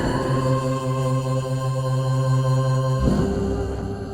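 Sustained synth chord from custom-map music in the video game Celeste, steady layered tones that shift to a new lower chord about three seconds in, playing alone and fairly loud.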